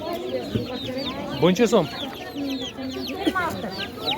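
Chickens cluck and squawk repeatedly at close range at a poultry market in Beruniy, a busy chorus of hens with a brief spoken word among them.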